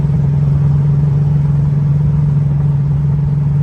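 Muscle car engine running at a steady, loud low rumble close by, holding an even tone throughout with no revving change or voices.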